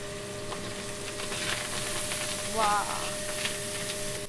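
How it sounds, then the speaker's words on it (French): Chopped leek sautéing in hot peanut oil in a pan gives off a steady, soft sizzle and hiss throughout, with a faint hum in the kitchen. Someone speaks over the frying. "Après avoir fait chauffer la poêle, on met de l'huile d'arachide. Et ensuite, le poireau haché."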